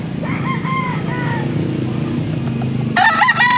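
Gamefowl stags crowing at a farm in Pampanga, with a couple of crows early on and a louder, closer crow near the end over a steady background of other fowl and murmur.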